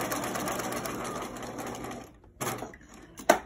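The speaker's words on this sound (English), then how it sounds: "We're gonna straight stitch along there." A sewing machine runs a straight stitch across a cloth surgical mask with ties, its fast needle chatter steady for two seconds, then a brief pause and a short second burst with a clunk at the end.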